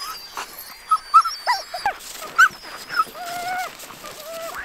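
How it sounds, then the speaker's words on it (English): A sled dog in Sisimiut, Greenland whimpers and yips in high, wavering cries while waiting for food, several short whines close by, with other dogs faintly audible behind. "The big doggo. The chief in command. The alpha dog."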